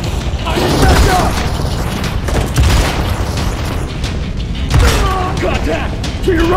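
Gunfire and explosions in the video game Modern Combat 4: Zero Hour, with repeated heavy booms and rattling shots over busy combat noise, while voices shout throughout.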